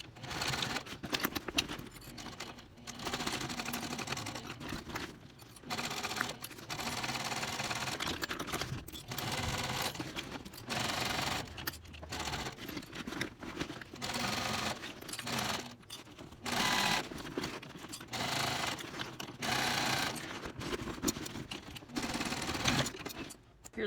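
A sewing machine stitches the side seams of a wide fabric tote bag, running in bursts of rapid steady needle chatter separated by short pauses, fairly close and loud, with some talk between runs.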